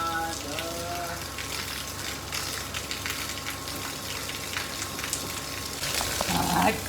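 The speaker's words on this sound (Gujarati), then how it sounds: "ફૂલ વરસાદ આવ્યો છે." Heavy rain pours steadily during a summer thunderstorm, a dense broadband hiss of drops that holds throughout, with a voice speaking briefly under it near the start and again near the end.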